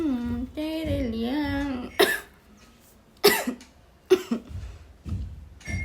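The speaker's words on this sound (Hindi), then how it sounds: "मेरी खांसी से पता चल रहा होगा तबीयत कितनी ज़्यादा है" A woman who is ill hums or sings briefly, then coughs several times in sharp, separate bursts, close and loud, with quiet breaths between them.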